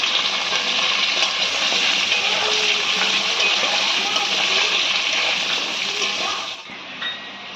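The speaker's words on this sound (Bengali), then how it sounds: "এই তেলের মধ্যে আমরা দিয়ে দিচ্ছি জিরে ফোড়ন, লম্বা লম্বা করে কেটে রাখা আলু, আলুটা আমরা একটু লাল লাল করে ভেজে নেব" Cumin seeds and long-cut potato slices fry in hot oil, a loud, close, continuous sizzle and crackle that steadies and eases slightly toward the end.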